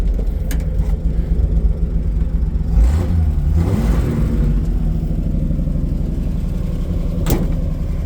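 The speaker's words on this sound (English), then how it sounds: "So reverse works, we're going backwards there." Engine of a 1951 Chevrolet Panel Truck, fitted with a later straight-six, drones steadily while the truck backs up in reverse, with a low close rumble and a few brief clicks and knocks.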